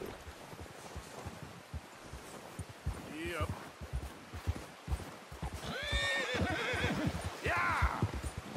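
A horse whinnies in the open-world western video game Red Dead Redemption 2, with several rising, quavering neighs over hoof clip-clops and rustling, while a voice speaks briefly.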